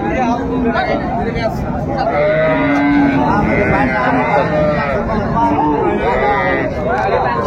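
Cattle, including cows with calves, at a busy village livestock market in Raniganj, Dinajpur give bleating and lowing calls. The calls overlap under a dense hubbub of crowd chatter and nearby voices, loud and continuous throughout.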